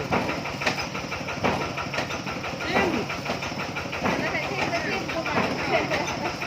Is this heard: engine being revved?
yes